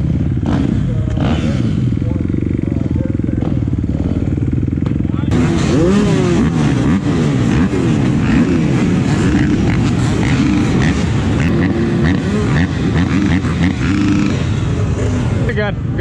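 Motorcycles at a race event riding out, engines buzzing and revving loudly and close with clattering mechanical noise, people talking throughout.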